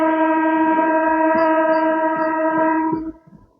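A MEMU local train sounds a long, loud, steady horn blast with strong harmonic tones, cutting off near the end and leaving low rumble behind.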